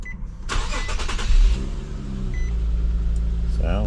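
An all-wheel-drive Infiniti G37 X coupe with 157,000 miles cranks and catches, then settles into a steady idle with a brief rev, heard up close with a person talking nearby.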